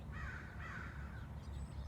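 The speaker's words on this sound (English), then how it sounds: "I love the birds singing along with us as we breathe in Om." Outdoors, a crow caws twice in quick succession at moderate distance, harsh and clear over a low background hum.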